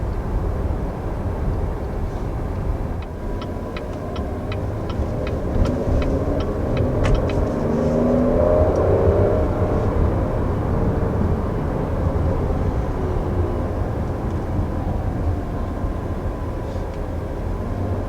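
A 2020 Cadillac XT6 crossover drives and picks up speed, heard from inside the cabin as a steady, fairly loud low engine and road drone with a faint rise midway.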